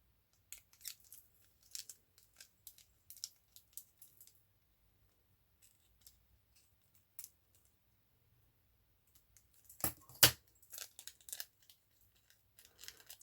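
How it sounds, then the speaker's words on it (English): Scissors trimming folded paper tabs on a shaker page, soft scattered snips and clicks close by, with a louder cluster of cuts near the end and no talking. "And then I'm just folding them over and trimming some of them off."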